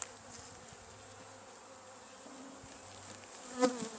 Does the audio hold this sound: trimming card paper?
no